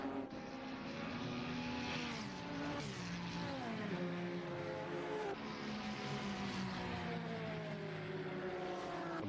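Race car engines, including a Ferrari, roar around Daytona in a sim racing video game, layered whining engine notes rising and falling through gear changes at a moderate, steady loudness.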